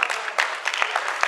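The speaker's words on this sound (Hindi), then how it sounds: "तो उसके लिए तो फिर खड़े होके ही तालियां बजाई जा सकती हैं" Scattered clapping from an audience at a 2022 Urdu poetry mushaira in Faisalabad, with sharp, uneven claps in loose bursts and a faint murmur underneath.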